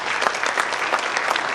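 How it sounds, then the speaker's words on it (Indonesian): Steady applause from an audience for Pak Ahok, Basuki T. Purnama, at an annual networking event, a dense, fairly loud patter of clapping with no voices over it. "Tepuk tangan sekali lagi untuk Pak Ahok."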